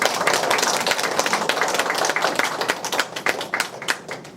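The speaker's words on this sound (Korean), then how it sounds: "오늘이 마지막 강의인 만큼 교수님을 좀 큰 박수로 맞아주셨으면 좋겠습니다" An audience in a lecture hall on Roman history gives a professor big welcoming applause at his final lecture: loud, dense, continuous clapping with some sharper claps standing out, tapering slightly near the end.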